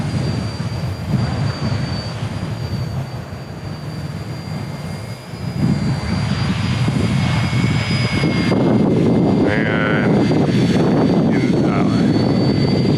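A radio-controlled ERA C032 UH-1 Huey military model helicopter flies outdoors in gusty wind, its steady close rotor and motor whir blending with rough wind noise throughout, growing slightly louder in the second half.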